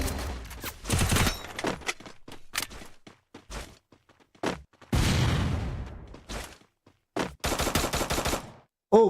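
Sharp gunshots crack during a competitive League of Chaos tournament match in a shooter video game, arriving as choppy bursts and rapid volleys separated by brief silences, loud and close.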